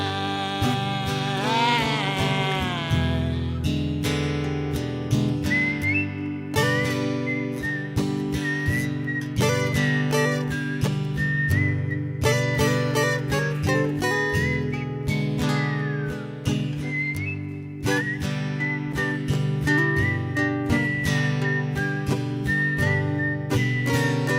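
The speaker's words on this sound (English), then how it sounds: "right before the whistle solo came in" Whistle solo in a live performance on The Bourbon Note, a clear melodic whistled line carried over steady guitar and band accompaniment for over twenty seconds.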